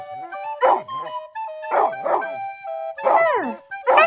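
Several dogs playing on a frozen river in the snow give bursts of yappy, high barks and whimpery yips in quick clusters, close and fairly loud with short pauses between.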